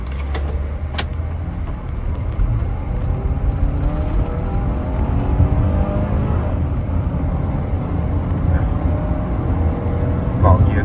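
Remapped 2.4-litre Honda CR-V G3 on stock E95 gasohol with air conditioning on, accelerating hard in a speed test, a rising engine drone building steadily from inside the cabin while someone talks over it.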